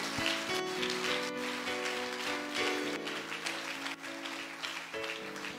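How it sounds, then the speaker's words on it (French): Dense, sustained applause from a church congregation, loud and close throughout, layered over held organ or keyboard tones. "Acclame très fortement pour la gloire du Seigneur."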